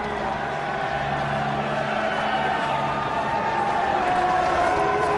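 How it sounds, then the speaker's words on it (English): A crowd in Whitehall, London, cheers as the new Prime Minister, David Cameron, is driven in to 10 Downing Street, a steady, broad wash of distant cheering and clapping with no break. "a cheer there from the crowd in Whitehall"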